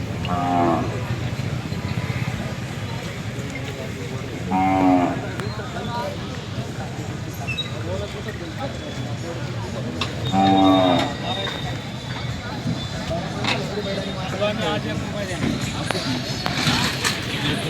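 Several loud moos from bulls spread across a busy outdoor cattle market, with people talking and general crowd noise throughout.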